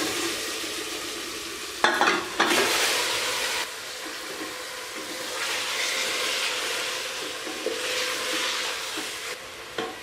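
Mutton sizzles and fries steadily in a hot karahi, with a few sharp scraping stirs of the spatula near the start and a continuous crackling hiss throughout, close and fairly loud.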